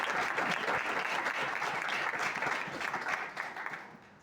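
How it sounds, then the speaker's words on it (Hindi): A congregation at an Easter midnight prayer service claps heartily together, a dense sustained round of applause that holds steady and then gradually thins and fades toward the end. "एक बार भरपूर तालियां बजाकर हम एक दूसरे को आज की मुबारकबाद पेश करें।"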